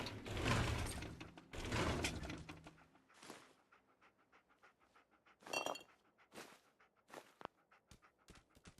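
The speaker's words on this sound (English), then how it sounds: "Somebody just kicked the bottle." A bottle gets kicked in Fallout 4, giving short bright clinks and rattles late in the sequence after louder rushing game effects and panting at the start.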